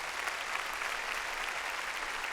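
A church congregation claps during a sermon, a steady, fairly faint and distant wash of hands with no voices over it.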